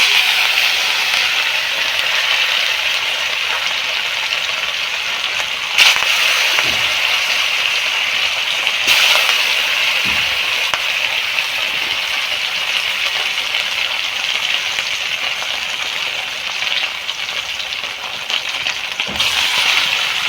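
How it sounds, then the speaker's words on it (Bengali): Pieces of katla fish, sprinkled with salt and turmeric, fry in a wok in a village kitchen, giving a steady, close hiss of sizzling oil with a few soft pops and crackles throughout. "এবার একে একে মাছগুলো ভেজে নেব।"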